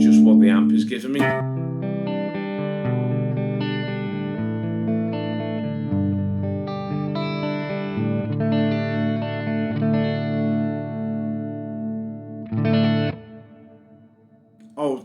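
Clean-tone electric guitar through a Laney Ironheart Foundry amp pedal with a touch of reverb, sustained chords and single notes ringing clearly and steadily for about twelve seconds, then a brief strum and stop.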